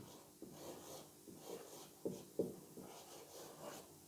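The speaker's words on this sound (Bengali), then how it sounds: "তো চলো আমরা কয়েকটা সেন্টেন্স লিখি" Pen or chalk writing sentences on a board for an English grammar lesson, heard as faint, quiet scratchy strokes and taps in an irregular rhythm, with no voice.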